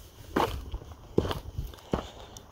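Three separate footsteps cross a floor laid with half-inch oxygen-barrier PEX radiant heat tubing, spaced roughly evenly and close by, in a fairly quiet space.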